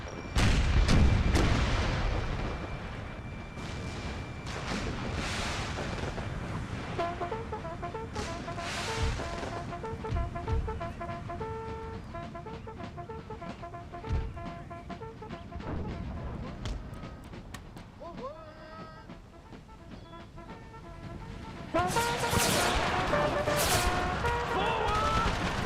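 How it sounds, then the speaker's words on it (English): Artillery fire in Empire: Total War, heavy booms and crackling gunfire in a battle scene, loud at the start and end, mixed with game music and under a voice talking. "direct artillery hits right in their lines"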